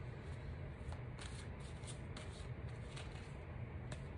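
John Holland tarot cards are shuffled and drawn by hand, giving quiet, rhythmic riffles and soft card snaps repeating through the moment.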